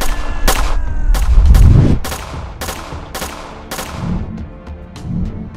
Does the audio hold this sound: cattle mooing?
no